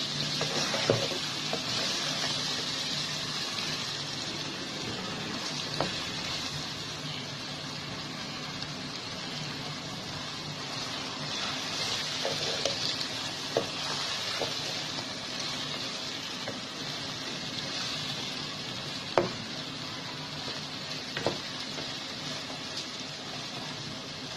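Mutton with roasted masala and red chili powder frying in a pan gives a steady, close sizzle throughout, with occasional soft clinks and stirring scrapes and no talking.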